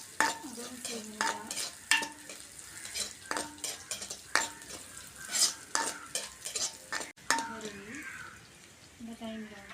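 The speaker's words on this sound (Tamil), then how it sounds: "சீரகத்தை கொஞ்சம் தாளிப்புக்காக சேர்த்துக்கணும்." Cumin seeds temper in a hot pan: a crackling sizzle runs under a person talking throughout, with repeated sharp scrapes and clinks of a spoon stirring against the pan.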